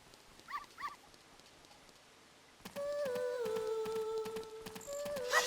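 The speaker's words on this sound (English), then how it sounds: "See a bunch of dogs running around at night." Dogs in Zelda Ocarina of Time at night give a few faint yips, followed by louder game music with tonal sweeps and sparkling chimes.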